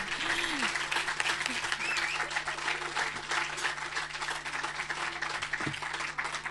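Audience applause for a performer named Brian at a Writers Unlimited 2012 literary festival event, sustained dense clapping from a crowd with faint voices and whoops mixed in, steady and fairly loud throughout.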